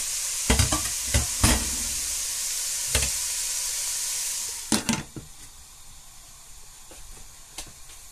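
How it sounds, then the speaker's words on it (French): Frozen minced-meat balls for lasagne bolognese heat in a pan, giving a continuous hissing sizzle broken by sharp clattering taps of a utensil, then settling into a quieter, softer fry. "Donc, les boulettes, ils sont en train de chauffer."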